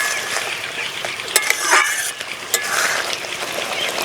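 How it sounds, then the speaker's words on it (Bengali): Eggplant cooking in a pan after its lid is lifted, a crackling sizzle under repeated spatula stirs, with a few sharp clanks of utensil on metal, close by and without speech. "এবার 2 মিনিট পর ঢাকনাটা খুলে নেড়ে দেব।"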